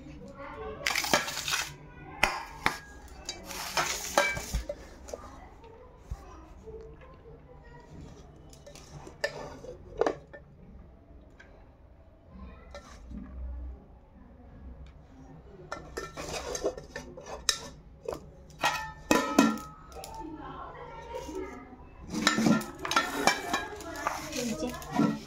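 Plates, pots and cutlery clink and scrape at home during a meal of fried eggs, with irregular bursts of clatter between quieter stretches and occasional voices speaking nearby.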